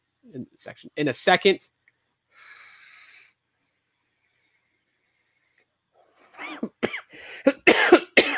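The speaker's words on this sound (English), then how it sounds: "Gosh, this cough is bad." A single rough cough breaks a quiet pause between stretches of close speech.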